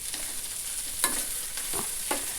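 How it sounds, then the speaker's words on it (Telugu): Bitter gourd (kakarakaya) fries in a pan with a soft, steady sizzle, interrupted by a few scraping stirs of a spoon, fairly quiet with no voices. "ఈ విధంగా ఫ్రై చేస్తూ ఉన్నానండి."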